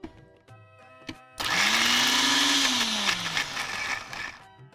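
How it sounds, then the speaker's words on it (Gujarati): A kitchen blender crushes chutney with salt and whole cumin, starting abruptly after a few quiet moments and whirring loudly and steadily for about three seconds, its motor pitch sliding slightly as it grinds, with no talk. "હવે આપણે એને ક્રશ કરી દઈશું"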